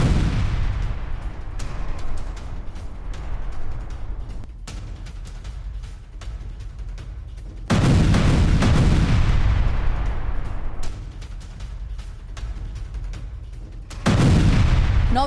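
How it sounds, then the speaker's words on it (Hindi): Two massive explosions from a drone attack in Belgorod, Russia, hit abruptly, each a loud broadband blast that rolls and fades over several seconds, with distant rumbling and crackle between them. "ड्रोन अटैक के बाद भीषण विस्फोट से थर्रा उठा पूरा इलाका।"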